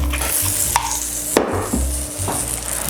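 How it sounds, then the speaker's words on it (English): Chopped onions sizzling in avocado oil in a pan on a stovetop, a close, moderate hiss with a few clanking spatula stirs and a sharp knock in the middle, no talking. "I will place my chopped onions in the pan"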